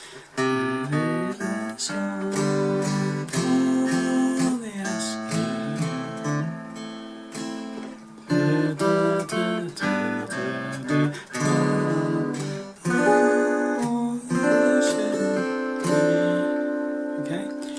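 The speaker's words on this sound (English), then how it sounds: "And then you just basically strum it and pick around it." An acoustic guitar strums a chord and then picks individual notes around it, alternating strums and plucked runs in a relaxed, continuous pattern.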